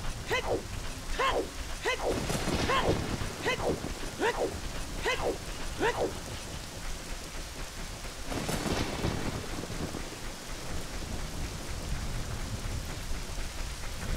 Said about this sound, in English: Again, what is it, the rain?